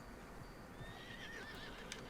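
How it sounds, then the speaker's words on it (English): A horse whinnies in the Red Dead Online video game, a rising then wavering neigh over a constant outdoor game ambience, with faint hoof clip-clop in the background and no talking. "Let's get my horse to flee."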